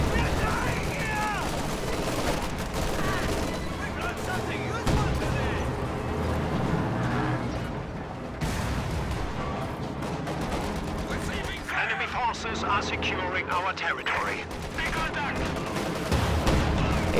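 Browning machine gun fire in a World War II strategy game, with steady automatic bursts and scattered battle explosions running throughout, heard under continuous commentary.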